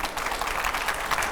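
Studio audience applause during a televised panel discussion, a brief dense burst of many hands clapping, steady and fairly loud with no voices over it.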